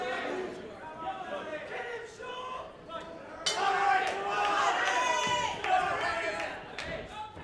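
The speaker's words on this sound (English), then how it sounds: "A very noisy Loughborough crowd." A noisy university crowd at a fight night makes a loud, sustained roar that swells suddenly partway through, with cheering, shouts and chatter blending into a dense wash and a commentator's voice layered over it.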